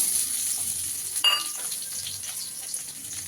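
Chopped onion fries in a couple of spoons of oil in a kadai, giving a constant close sizzle with a sharp burst as the pieces drop in, then a steady crackling hiss.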